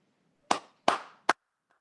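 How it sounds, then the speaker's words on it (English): A single person claps three times, sharp and close, in an uneven rhythm with a slight echo after each clap, followed by silence. "I know it's kind of strange that you don't get the clap feedback, so I wanted to do that for you"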